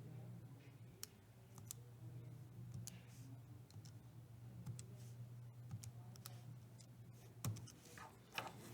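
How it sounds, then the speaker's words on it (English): Quiet, sparse clicks of buttons being pressed on a graphing calculator as an equation is entered, each press short and soft over a low steady hum. "going to put this into our calculator. So y equals, and I'm just going to type in the equation as I see it."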